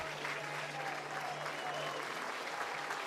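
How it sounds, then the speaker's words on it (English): A college baseball crowd in a Troy vs Little Rock game applauds as pitcher Tommy Egan leaves the mound, a steady roar of clapping and cheering that fills the stadium throughout, with a faint tone humming underneath. "Tommy Egan is going to get a rousing round of applause"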